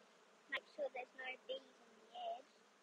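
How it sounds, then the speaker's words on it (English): Honey bees buzzing in a Flow Hive while a super is added, a faint steady hum with short louder bursts of buzzing rising and falling, close to the hive. "Notice how the bees change note, but soon they will calm."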